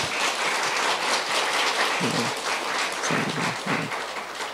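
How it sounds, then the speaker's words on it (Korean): Church congregation at a Friday prayer service applauding leaders, a dense steady patter of many hands filling the room, with brief low voice-like murmurs partway through. "우리 6분에게 한번 박수, 축복의 박수를"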